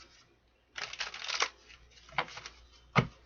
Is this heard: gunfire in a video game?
no